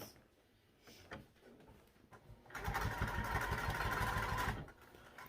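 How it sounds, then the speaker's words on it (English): A sewing machine stitches a quarter-inch seam around a backpack, quiet handling sounds followed by a two-second burst of rapid, even, mechanical whirring that stops abruptly. "now I'll sew around with a 1/4 inch seam allowance all the way around"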